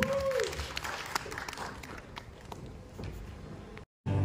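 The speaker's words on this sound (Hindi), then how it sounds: "तो एक बार जोरदार तालियां होनी चाहिए हमारी बॉलीवुड हिस्ट्री की" An audience at Bollywood Park in Film City, Goregaon, Mumbai, gives a faint, distant round of applause, steady crowd clapping that cuts off abruptly near the end.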